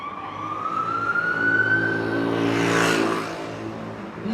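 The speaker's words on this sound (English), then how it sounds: "Coronavirus ambulance." Special coronavirus ambulance siren sweeping past in traffic with a steady, rising wail over engine and road rumble, growing loud and then fading as it moves away.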